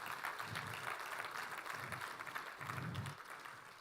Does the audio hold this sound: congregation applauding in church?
yes